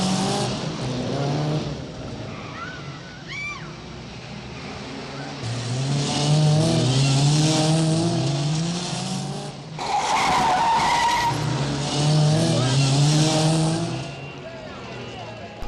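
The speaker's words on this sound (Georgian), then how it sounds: "აი გაზის მიცემის დროს მანქანა ოდნავ მოცურებული რომც იყოს" A Mini Cooper S accelerating hard and sliding, with engine revs rising in repeated surges, tyre squeal and skidding, close and loud, while someone talks over it.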